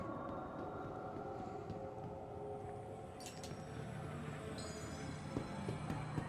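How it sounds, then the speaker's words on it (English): A city transit tram in the video game Star Citizen pulls in toward a spaceport route, giving a steady low rumble with faint tonal whines and brief metallic high chimes partway through. "we can see the tram is here right now"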